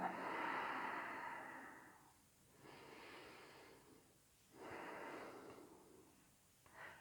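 Deep slow breathing in a gentle yoga class: three long, airy breaths, each inhale or exhale swelling and fading in a steady rhythm, close and soft, with no one speaking.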